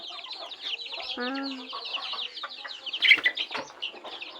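Domestic chickens clucking at a house, several birds close by giving irregular clucks and squawks, with one drawn-out call, a louder flurry near the end and a voice briefly mixed in.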